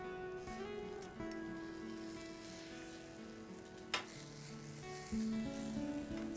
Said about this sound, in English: My Wonderchef Caesar pan can cook an egg without a drop of oil.